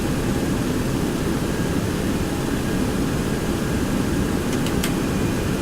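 A Boeing 727 jet airliner's engines drone in a steady, loud, broadband roar during the takeoff climb, heard from inside with no talking.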